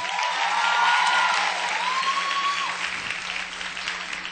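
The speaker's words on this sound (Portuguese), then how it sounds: "Vamos aplaudir a Melissa." An audience applauds, a dense burst of clapping that starts strong and gradually thins out, with a faint whistle-like tone early on.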